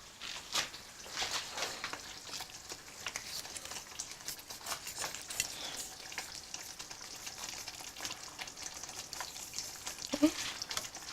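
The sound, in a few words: blanching noodles in boiling water for curry mee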